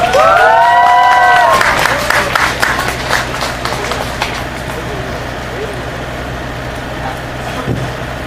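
A crowd at an evening rally against the US FTA cheers and applauds a female high school student, loud at first, then settling into sustained clapping and murmur with voices over it.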